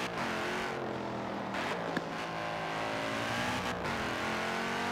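A small Aston Martin in Forza Horizon 4 hums along at moderate volume, its engine note rising smoothly through acceleration with a couple of brief gear-change dips, steady and close with no speech.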